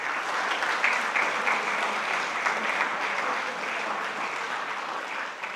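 Sustained applause from a seated audience at an oath-taking ceremony at the Khalsa College of Veterinary & Animal Sciences, a dense, steady clapping that fills the room without pause and eases only slightly toward the end.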